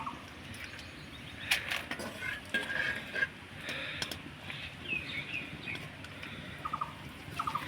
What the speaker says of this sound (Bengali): এবার আমি এখান থেকে অল্প করে পাঁপড় নিয়ে এই গরম তেলের মধ্যে ছেড়ে দেব।